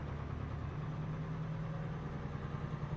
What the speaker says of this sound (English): I think I'm going to have to rev the engine out.